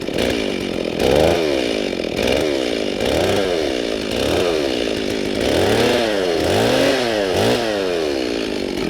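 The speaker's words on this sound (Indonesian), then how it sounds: "Ya memang alat pemotong untuk pohon albasia ini beratnya 12 kg." A heavy 12 kg chainsaw cuts into an albasia tree, its loud engine rising and falling in a steady rhythm of revs roughly once per second as the blade bites into the wood.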